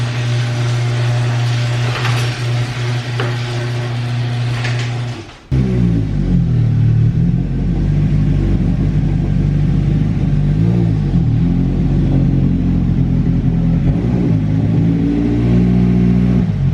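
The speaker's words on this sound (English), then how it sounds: "I'm gonna pull my car in" A Nissan 240SX is driven in close by: steady engine drone, a brief dip, then a louder low rumble with rising and falling revs as it rolls slowly, no voices.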